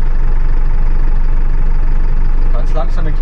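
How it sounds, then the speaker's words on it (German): A Unimog U300 engine pulls away slowly in second gear, giving a steady, close, knocking rumble throughout, with a voice briefly audible near the end. "Jetzt ist der zweite Gang drin. Handbremse raus. Können wir ohne Gas auffahren. Ganz langsam, dann können wir auch ein bisschen Gas geben."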